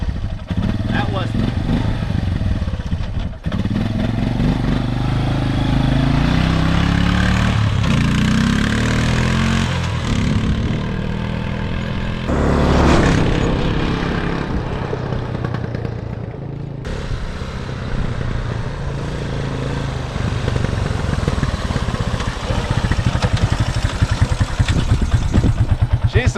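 A cheap ATV engine runs for a long stretch, needing carburetor work: a loud, close, rough idle with revving surges and uneven clatter, and a voice speaking briefly over it.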